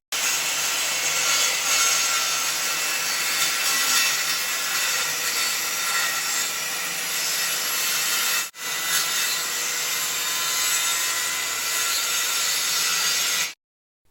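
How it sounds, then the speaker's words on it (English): A circular saw fitted with a vacuum dust-extraction attachment cuts a piece of plywood hardwood with a loud, continuous high whine and rushing noise. The sound cuts out briefly about two-thirds through, then carries on steadily until it stops abruptly. "Just strip off the side to get a finer quality cut with the circular saw."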